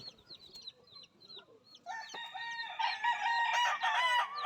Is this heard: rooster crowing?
yes